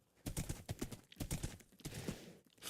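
Rapid clip-clopping Minecraft horse hoofbeats in an irregular gallop, fairly close and busy, with a brief shot-like burst mixed in.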